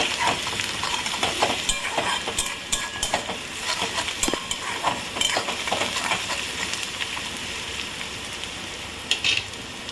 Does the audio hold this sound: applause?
no